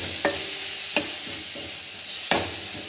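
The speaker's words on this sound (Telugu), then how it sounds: "కొత్తిమీర వేసుకున్న తర్వాత ఇలాగ కదుపుకొని ఇలా కలుపుకోవాలి." Coriander leaves fry and sizzle steadily in a pan for kothimeera pachadi, with a few sharp scraping stirs of a spatula standing out over the constant crackle.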